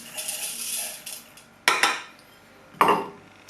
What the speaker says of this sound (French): Je vais maintenant ajouter mon riz.